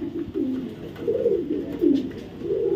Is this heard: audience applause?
no